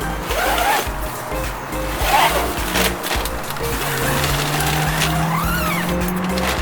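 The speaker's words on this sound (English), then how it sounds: "If you want more privacy for sleeping, this panel zips up." A zipper on a tent panel of an InTech Flyer Pursue camping trailer is drawn closed, giving several loud, close zipping strokes with short pauses in between.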